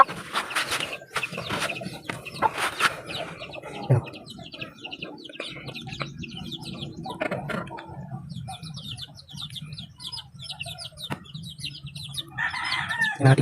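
Chickens clucking and calling while being fed, with some crowing, busy overlapping bird noise close by and continuous throughout, with a few faint sounds of handling.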